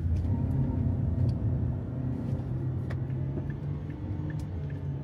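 A 2025 Chery Tiggo 2 Pro with a 1.5L engine and CVT holding its gear on a downshift, a steady low engine drone and road rumble from inside the cabin, continuous and moderately loud without talk.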